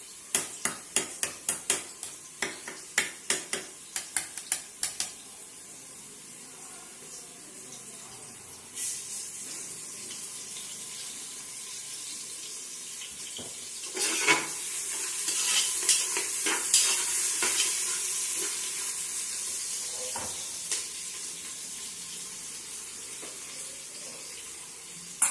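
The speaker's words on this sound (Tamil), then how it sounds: "எப்பவுமே வெங்காயன்றது பொன்னிறமாக வதங்கணும்" Onions for chicken biryani fry golden in a pan, opening with a quick run of sharp spatula knocks, then a steady hiss of sizzling that swells as they are stirred.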